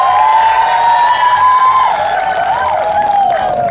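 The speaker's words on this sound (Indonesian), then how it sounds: "Tepuk tangan dong untuk kedua-duanya." Applause and cheering from a studio audience at a televised noodle-cooking game show, loud and sustained, with a voice or shout sliding over the crowd noise throughout.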